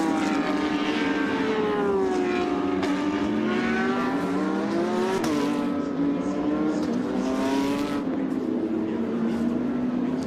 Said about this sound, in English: You can hear the roar of those Porsche engines as they pull away.